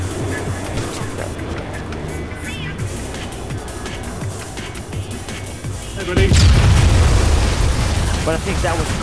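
An RPG rocket detonates in the military shooter game Arma 3, a sudden loud boom about six seconds in that leaves a heavy rumbling wash, after a stretch of background game noise and voices.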